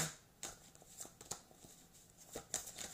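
Tarot cards shuffled and drawn by hand, a run of crisp papery riffles and slaps at irregular intervals, close and moderately loud, with a steady faint hiss between them.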